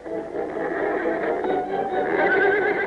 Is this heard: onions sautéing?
no